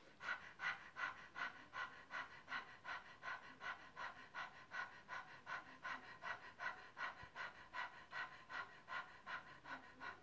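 A person pants rapidly through an open mouth, imitating a dog, in a soft, even rhythm of quick breaths that continues without pause.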